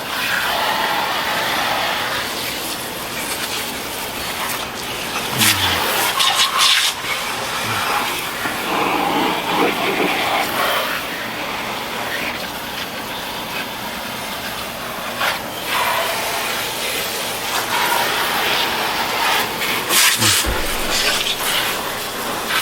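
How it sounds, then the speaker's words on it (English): A garden hose sprays water over a Jeep Wrangler's engine bay, producing a steady broadband hissing rush with a few louder bursts and thuds as the spray shifts, fairly close. "going to gently spray off the engine compartment with my hose here"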